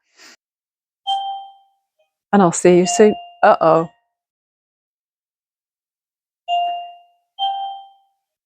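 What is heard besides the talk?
doorbell ringing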